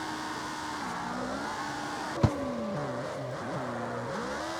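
A car engine in the CarX Street driving game revs up and down through second gear, pitch rising and falling steadily, with one sharp knock partway through.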